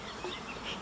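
A steady, faint buzz of honeybees hums around a hive in an apiary, a soft continuous drone with no voices over it.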